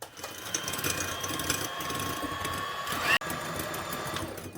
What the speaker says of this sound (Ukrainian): беремо до рук міксер, взбиваємо